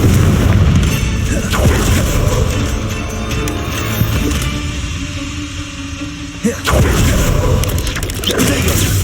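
A Confringo blasting spell goes off in the video game Hogwarts Legacy: loud booming blasts and bursts over dense game noise, with a sharp impact partway through and the noise then resuming.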